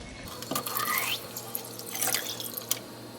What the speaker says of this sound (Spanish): lo que vamos a hacer es echar los 600 mililitros que teníamos acá de leche